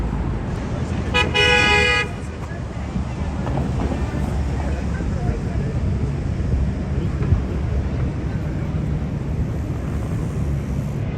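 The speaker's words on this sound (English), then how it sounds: "Wow, heavy traffic today." Rush-hour New York City street traffic rumbles steadily, with a loud car horn honking near the start and a continuous wash of engines and city noise afterward.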